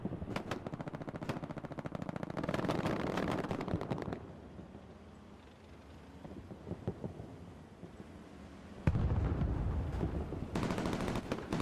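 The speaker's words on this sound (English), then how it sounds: "see a bombing run coming in for one of the teams" Explosions from a bombing run over Carentan town center in the WWII shooter Hell Let Loose, with rumbling blasts and crackling gunfire, a lull in the middle, then a loud sudden burst near the end.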